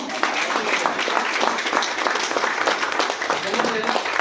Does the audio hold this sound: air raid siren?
no